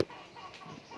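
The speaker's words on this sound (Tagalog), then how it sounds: "Ayan yung aking mga inalpasang manok." Free-ranging chickens cluck softly in the background near a pig feeding area, a few short calls over a steady outdoor hum, with no one talking.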